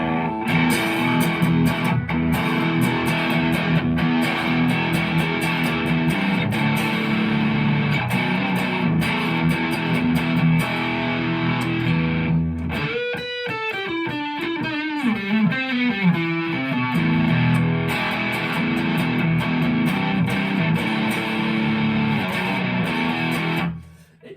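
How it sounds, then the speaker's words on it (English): Heavily distorted electric guitar through a cheap distortion pedal into a Line 6 Catalyst amp plays continuously with a fuzzy, saturated tone, chords ringing loud, with a brief bendy melodic passage in the middle. "this is just a cheap distortion pedal"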